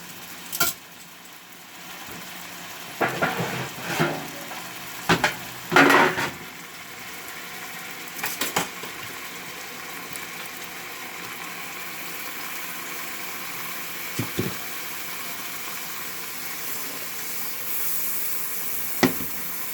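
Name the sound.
moose meat searing in a pan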